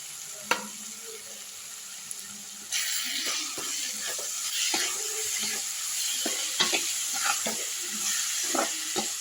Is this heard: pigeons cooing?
no